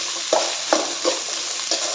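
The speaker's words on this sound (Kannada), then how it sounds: "ಬೀನ್ಸು, ಕ್ಯಾರೆಟು, ಕ್ಯಾಪ್ಸಿಕಮ್ ಹಾಕಿದ್ದನ್ನು ಅದೆಲ್ಲನೂ ಫ್ರೈ ಮಾಡ್ಕೊಂಡು" Beans, carrots and capsicum sizzle steadily in hot oil for street-style vegetable noodles, with several clear scrapes and stirs of a spatula cutting through the constant frying hiss, up close and without talk.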